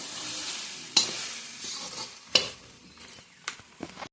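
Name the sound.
stirring carrot halwa cooking over a wood-fired stove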